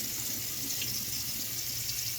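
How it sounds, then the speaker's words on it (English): Tap water runs steadily into a sink while sweet peas are rinsed, a continuous close splashing hiss with no talking. "So we rinsed up our sweet peas. Rinse them off well."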